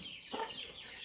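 A chicken in a cage at a household coop gives a single faint cluck, brief and somewhat distant, over a quiet background with no talk.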